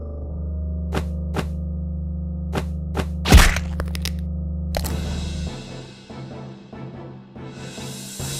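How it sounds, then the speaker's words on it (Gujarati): Gunfire from below in an episode of a Gujarati CID crime drama: a series of sharp cracks over a steady low hum, with one louder burst midway, and the background fading afterward. "ભાઈ નીચેથી ફાયરિંગ નો અવાજ આવે છે."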